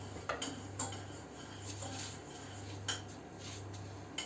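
A knife cutting through cooked pork head meat on a board, quiet irregular taps and slicing scrapes over a low, steady background hum.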